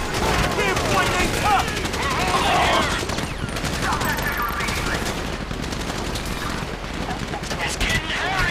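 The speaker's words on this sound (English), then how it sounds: "So I guess we're shooting our way out of here." Rapid gunfire and bursts of automatic weapons in a Grand Theft Auto 5 shootout play loud and continuous for the whole stretch, mixed with game noise and voices talking over the shooting.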